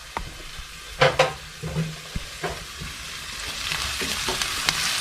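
Onions sautéing in a pan for zucchini stew crackle and sizzle steadily, with a few sharp utensil scrapes and knocks early on and the frying growing louder toward the end.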